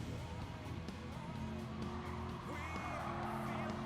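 A pickup truck races around a track in Gran Turismo 7, its engine droning steadily with tire squeal and skidding layered over it, fairly loud and continuous through the short stretch.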